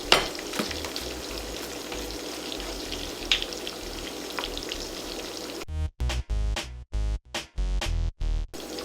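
Salmon browning in a frying pan gives a steady, close sizzle for about six seconds, then abruptly gives way to a run of loud, choppy tonal bursts with short gaps.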